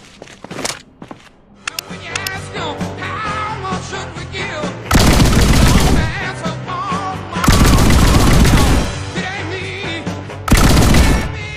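Video game gunfire in Reload, with spent shell casings and shotgun hulls ejected in bursts: loud, dense volleys of rapid shots come in several heavy stretches, with quieter clatter and activity between them.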